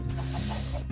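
A chicken clucks in the video game Minecraft, giving a few short clucks over a low, steady background hum.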